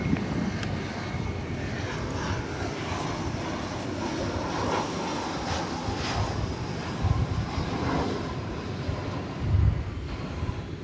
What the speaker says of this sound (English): That arrival was American Flight 509 from Austin, an Airbus A320.